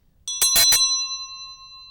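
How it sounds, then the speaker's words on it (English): An old bell from a farm schoolhouse near Smithfield, Virginia rings out close and loud, a quick cluster of two or three metallic strikes followed by a long, clear ringing decay with no talk over it. "this is a school bell that was used in the schoolhouse on the farm"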